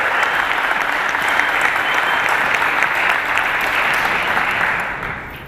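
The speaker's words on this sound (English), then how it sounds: "So I would like a big round of applause for everybody here who's really contributed to make this happen." Audience applause at a startup demo day event, a steady, dense wash of many hands clapping close and loud for about five seconds before tapering off at the end.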